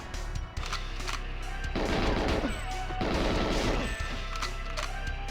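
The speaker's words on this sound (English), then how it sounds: "Firing the weapons in this game is satisfying." Weapons fire in GoldenEye 007, with rapid automatic bursts of gunfire in two sustained volleys between scattered single shots, loud and close with no speech.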